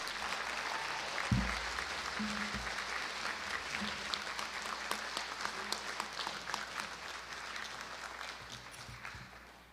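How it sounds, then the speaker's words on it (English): Sustained round of applause from a school board meeting audience honoring junior scholars, dense steady clapping filling the room for nearly ten seconds before tapering off at the end. "Let's give all of our junior scholars one more round of applause"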